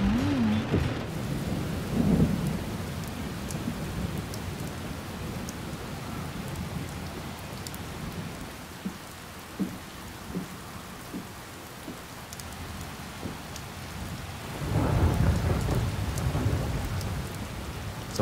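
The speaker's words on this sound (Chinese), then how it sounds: "怎么下雨了？" A steady rain falls outdoors while deep rolls of thunder rumble near the start and again toward the end, with no voices.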